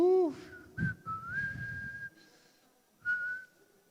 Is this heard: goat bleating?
no